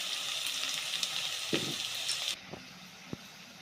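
A spoonful each of garlic paste and ginger paste, with salt, frying in a pan. A bright, hissing sizzle cuts off partway through, followed by a few faint utensil clinks in near quiet.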